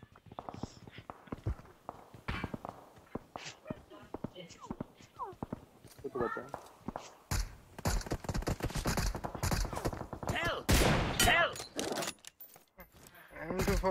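Video game gunfire in a live-streamed shooter: a series of sharp gunshots rings out amid clicks, footsteps and other game sounds, mixed under a player's frequent talk.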